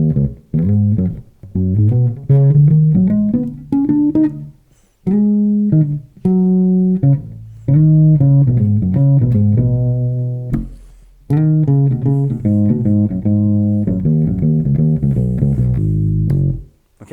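Bass guitar plays a unison line, running through its sections in a row as clear, punchy melodic phrases with short gaps between them, solo and up close.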